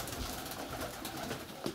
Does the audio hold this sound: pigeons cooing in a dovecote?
yes